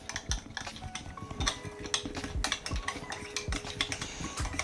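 Chicken marinade with a little hot sauce being stirred in a bowl, giving a run of light clinking and scraping taps at an irregular rhythm, close and fairly quiet.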